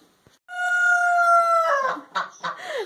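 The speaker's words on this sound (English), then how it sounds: "That was kind of cool if he crowed behind you." A nearby rooster lets out a loud, drawn-out crow that ends in a few rough, broken notes, followed by shorter clucks and calls.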